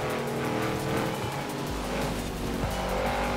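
A Ferrari in the racing game Forza Horizon 4 drives past with a loud, sustained engine roar and a tire squeal, its engine note shifting partway through.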